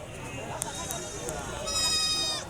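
Goats bleating on a goat farm, a few wavering calls rising near the end over a murmur of background voices and farm noise.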